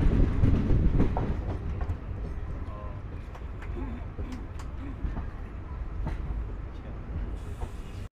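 A New Delhi–Ranchi Garib Rath express train halted at Latehar railway station, a small station among tall trees in Jharkhand, with a steady, loud rail rumble throughout and people talking over it.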